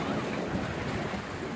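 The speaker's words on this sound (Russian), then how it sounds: "потому что волны бахаются в это камни эти." Grey sea surging against a shoreline of piled breakwater rocks, a continuous low wash and rumble mixed with wind buffeting the microphone, faint and steady with no voices.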